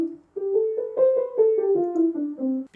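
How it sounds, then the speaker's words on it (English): Soft piano notes played with weak fingers, a stepwise run of about ten quiet, uneven notes after a brief pause, close and alone with a gentle, light touch. "Having weak fingers sounds like this."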